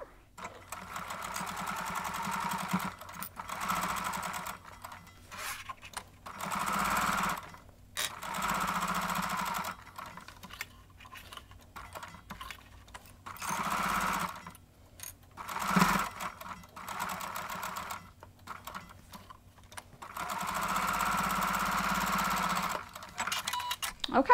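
A sewing machine stitches fabric pieces of a pocket tissue holder in repeated runs of rapid mechanical whirring, separated by short pauses, close and clear, with occasional quiet talk.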